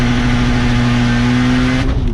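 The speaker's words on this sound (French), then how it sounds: "C'est pas un bruit de ouf, c'est que quand t'accélères vraiment." A Stage 3+ tuned Skoda Octavia making 550 hp revs hard under heavy acceleration, its loud, steady engine drone filling the whole stretch before easing slightly near the end, with no talking.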